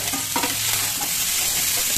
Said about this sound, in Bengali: অল্প সামান্য তেল দেওয়া আছে, নাড়াচাড়া করে কাঁচা গন্ধটা মেরে দেওয়ার চেষ্টা করবো